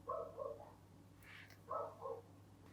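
Dogs barking indoors, muffled and somewhat distant, in two short clusters of two or three barks separated by a quiet gap with a faint higher yelp.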